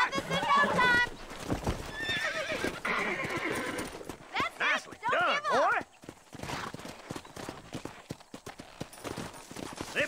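A horse in the Red Dead Redemption video game whinnies loudly several times while its hooves clip-clop, with a voice talking intermittently over the animal sounds.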